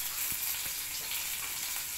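Food sautés in an electric pan with a steady, even hiss of frying and a couple of soft stirring taps, heard alone at moderate volume.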